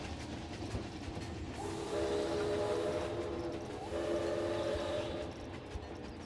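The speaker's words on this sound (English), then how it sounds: "I do love the whistle on the train." A roller coaster train rumbles and clatters along its track in Planet Coaster 2, sounding two whistle blasts over the steady mechanical rattle.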